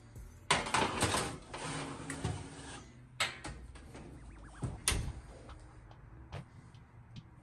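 Plastic car taillight set down inside a home kitchen oven, with clattering metal-rack clunks and a few sharp knocks, close and moderately loud, then quieter shuffling.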